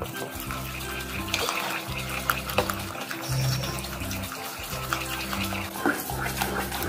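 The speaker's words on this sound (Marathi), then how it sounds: "1 वाटी पाणी टाकत आहे मी" Water is poured into potato and rawa appe batter in a bowl, a continuous close splashing and trickling with brief clinks, over a low hum and no clear talk.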